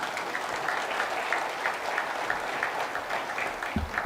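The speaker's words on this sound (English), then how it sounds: "Can we have a round of applause for all of our supporting cast today?" Audience at a summit in the restored historic Sydney Theater applauding steadily, a dense, even clapping from a large crowd lasting throughout.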